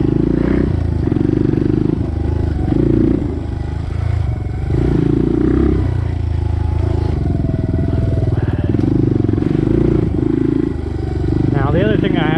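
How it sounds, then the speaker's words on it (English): A DR200 motorcycle accelerates in first gear at quarter throttle, its engine note rising in repeated surges with clattering mechanical noise, while a person talks over it. "You just literally put in the first gear, 1/4 throttle, and it just works its way up."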